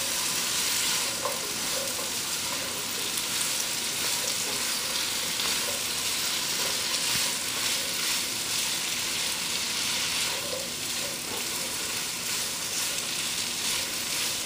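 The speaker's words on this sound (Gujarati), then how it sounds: "હું એની અંદર નાખી દઈશ આપણું ડુંગળી ને મોટા મરચાનું મિક્સચર. ને આપણે એને જરાક રાંધશું." An onion and big chilli mixture fries with cassava in a pan, giving a continuous loud sizzle with light stirring scrapes throughout, no voices.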